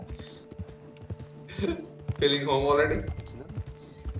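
Hooves of a Kentucky Saddler horse in Red Dead Redemption 2, light clip-clop steps running under steady game music and a character's spoken line, with several voices talking over it.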